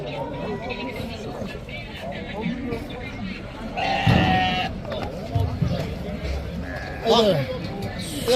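Several sheep, rams and lambs bleat nearby, loud calls rising over the hum of a crowd of people talking at a busy Kyrgyz livestock market.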